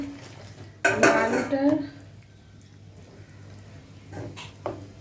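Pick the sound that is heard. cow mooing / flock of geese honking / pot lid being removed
pot lid being removed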